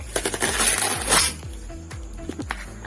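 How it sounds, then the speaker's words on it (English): Stiff plastic packaging is crinkled and torn open while unboxing a vitamin and a jacket, giving loud crackling bursts in the first second and a half, then quieter scattered rustles and clicks. "Okay, I'm gonna open this first. This plastic."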